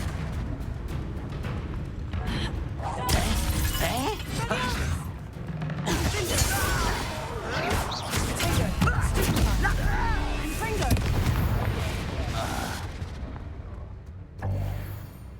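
Blasting spell explosions and crashing impacts in the Hogwarts Legacy video game, loud bursts with shattering debris arriving in several clustered waves over about fifteen seconds, mixed with game sounds.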